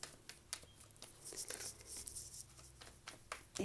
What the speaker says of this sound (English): I'm just shuffling the cards back in from pile 1